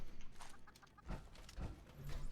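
A chicken clucks softly in a few scattered bursts among low, rumbling game ambience in Fallout 76, faint and somewhat distant.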